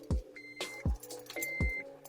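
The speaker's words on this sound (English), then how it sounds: "let's check it out and watch what happens when I stick the key in" A switchblade key sliding into the ignition of an Acura TL, producing several sharp clicks and metallic ticks with brief chimes between them, close and fairly quiet.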